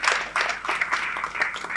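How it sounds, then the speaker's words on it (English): Audience applause for a women's college team from Chennai at a regional quiz competition, a steady patter of clapping that runs through the whole short stretch at moderate volume. "Round of applause for them."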